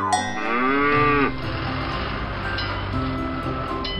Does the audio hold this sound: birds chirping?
no